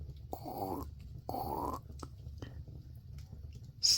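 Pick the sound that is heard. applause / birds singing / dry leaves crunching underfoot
dry leaves crunching underfoot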